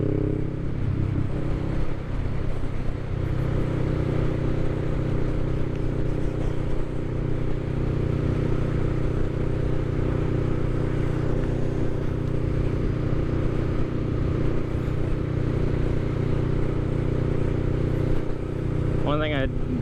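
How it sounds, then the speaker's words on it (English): A 2023 Honda Rebel 500 cruiser motorcycle with a throaty exhaust runs at a steady idle, a continuous low rumbling drone held for about twenty seconds with a brief high chirp near the end. "And even being for a Honda, the bike doesn't sound bad at all."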